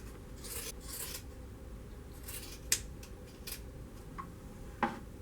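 Scissors trimming padding on a hard valance board, a few quiet rasping cuts and two sharp snips against a low background hum, with no one speaking.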